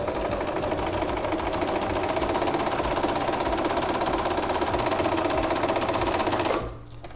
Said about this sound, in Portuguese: Vou vir aqui fazer a minha costura reta normal